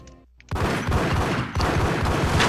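Rapid gunfire from the Max Payne video game erupts after a brief quiet lead-in, with dense overlapping shots forming a loud, sustained fusillade that barely pauses around the middle before continuing.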